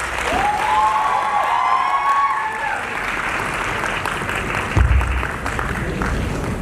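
A crowd applauds a girls' performance at an evening event, steady clapping filling the room with some cheering and a few voices mixed in, plus a brief thump near the end.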